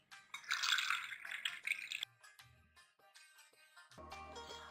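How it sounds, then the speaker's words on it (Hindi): Water is poured into a glass holding ice and peach squash, giving a bright splashing gush for about two seconds, then quieter trickles and clinks. "साथ ही हम इसके अंदर डाल देंगे पानी"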